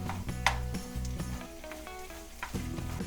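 Jalapenos hit a hot pan on a grill over medium heat and sizzle, with steady frying hiss throughout and a few stirring clinks and scrapes near and clear, no voices.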